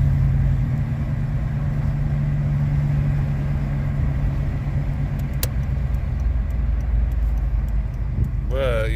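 A Chevy engine, fitted with an underdrive aluminum pulley kit and with the A/C bypassed, coasts off the gas as a steady low drone heard from inside, joined by a short rising whine at the end.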